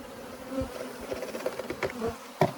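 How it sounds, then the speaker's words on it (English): A dense, close buzzing of honey bees comes as a colony is shaken down into a half-cup scoop during a varroa mite check, with a few soft knocks and one sharper thump near the end. "We're going to shake those bees down so they're an easy scoop."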